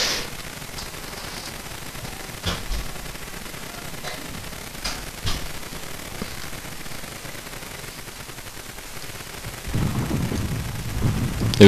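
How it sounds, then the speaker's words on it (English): Distant Armstrong guns and massed fire in the Total War: Shogun 2 battle, a rumbling din of scattered booms and crackles, with louder low blasts near the end. "There goes his Armstrong guns."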